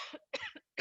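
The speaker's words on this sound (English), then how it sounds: "I have to cough." A single short cough, a sharp double burst followed by a second quick hack, close to the mic and fairly quiet, with no talk.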